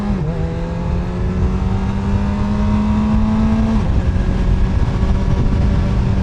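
A Honda CB1000R Black Edition motorcycle pulls hard on the road, its engine note rising steadily then dropping at a gear change before climbing again, loud and close with wind rush throughout.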